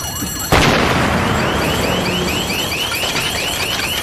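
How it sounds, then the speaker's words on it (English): A sudden loud explosion blasts inside a lock-up garage, followed by a sustained roar of debris and rumble while an alarm warbles repeatedly in the background. "Explosion in lockup at end of Gurney Street."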